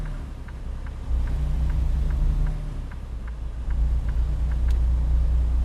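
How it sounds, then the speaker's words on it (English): A Freightliner Cascadia truck engine runs continuously with a deep, steady low rumble and faint periodic ticking, loud and close as if heard from inside the cab, with no voices. "I just have a hard time telling sometimes if my voice is getting kind of drowned out by the truck or not."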